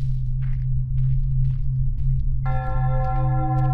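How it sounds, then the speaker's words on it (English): A single church bell tolls in the horror video game Wick, a sudden resonant strike ringing out over a low, droning ambient background with faint footsteps before it. "that's the first bell means half an hour has gone by"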